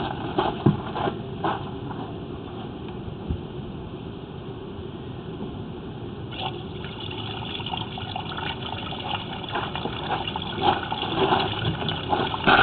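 Steady rushing water flows continuously through a pipe, a hollow splashing wash with occasional knocks, growing slightly louder toward the end.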